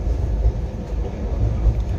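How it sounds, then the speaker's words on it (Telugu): A Vivek Express train pulls out of Salem Junction station, heard from on board as a steady low rumble with soft rolling thumps, close and continuous. "ఇప్పుడైతే మనం వచ్చేసి అయితే సేలం జంక్షన్ కూడా డిపార్ట్ అవుతున్నాం."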